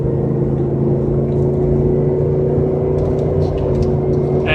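Range Rover P38 with a MagnaFlow exhaust under full throttle, the engine droning loud and steady with a deep, constant exhaust note close by and no voices.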